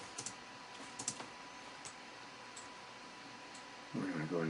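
Keys tap on a computer keyboard during 3D modeling work, a handful of light, isolated clicks spread out over a quiet room hum, with a voice starting to speak at the very end.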